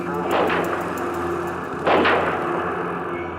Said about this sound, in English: the Kennedy motorcade passed the Texas School Book Depository, and gunshots rang out